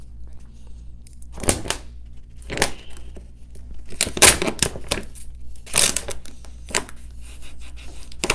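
3M Di-Noc architectural vinyl film is cut in several separate crisp strokes, each a short rasping slice close by, spaced with quiet pauses between them.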